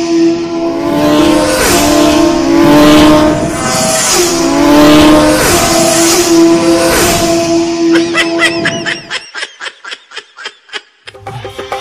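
A voice imitates a motorcycle engine with loud, rising and falling revving bursts, followed by a series of short clipped sounds.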